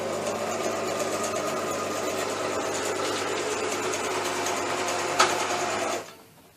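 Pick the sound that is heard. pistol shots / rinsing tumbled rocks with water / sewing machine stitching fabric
sewing machine stitching fabric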